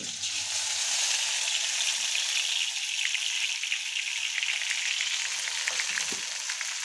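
Tempering spices hit hot oil for dhaba-style rajma, producing a loud, continuous hissing sizzle that stays even from start to finish with light bubbling, and nobody speaks.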